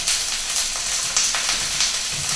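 Vegetables fry in a pan with a dense, steady sizzle, bright and close. Faint stirring scrapes come through now and then, and no one speaks.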